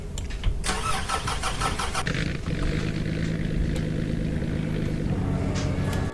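A car engine starting up in a slot-car game: a cranking, rattling start that settles into a steady mid-pitched idle hum, loud and continuous with no talk.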